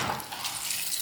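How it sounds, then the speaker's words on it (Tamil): Rice is poured into boiling water flavoured with cumin, making a brief burst of hissing, bubbling splashes for about a second. "அரிசியை சேர்த்துப்போம்."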